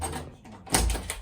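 A door lock button pressed on the inside of a Seoul Airbnb apartment door, giving a single short clunk with a low thump near the end, fairly close and alone.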